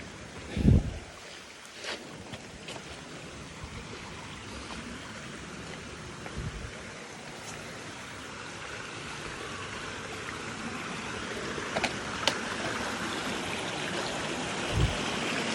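Steady water flows and trickles in a canyon stream, a continuous soft rush with gusts of wind and a few faint knocks.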